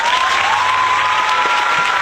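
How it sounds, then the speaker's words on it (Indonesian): A classroom audience claps together in a loud, steady burst of applause that fills the space, dense and continuous for the whole moment before cutting off abruptly. "beri tepuk tangan"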